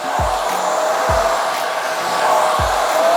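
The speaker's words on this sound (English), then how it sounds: "we're simply just going to blow dry the root area" A hair dryer blows steadily and close while drying the root area of a top section of hair for a flicky blow dry, with a few brief low thumps as it is moved about.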